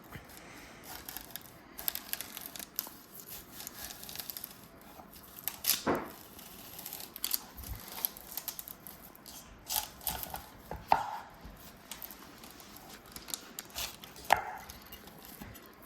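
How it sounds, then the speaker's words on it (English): A knife slices an onion on a cutting board, making a close, quiet series of irregular crisp chops and crunches with no talking. "Then I'm gonna cut the onion into slices."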